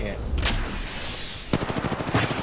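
Rapid bursts of gunfire in the Apex Legends shooter game, loud dense volleys with a fast pulsing rhythm toward the end, heard alone without talk.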